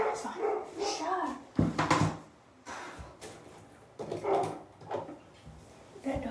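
A dog barks repeatedly in short bursts from nearby, cutting in over ongoing talk during an indoor morning makeup routine.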